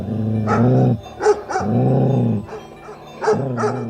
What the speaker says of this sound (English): an angry dog came bounding up, growling and snapping at the cat.